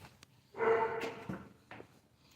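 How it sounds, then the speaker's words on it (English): A big dog barks from a neighbouring house, a burst of rough barking lasting about half a second, then a shorter, quieter bark and a faint yelp, all heard from some distance. "Can't do anything about that noise coming from the neighbor's house"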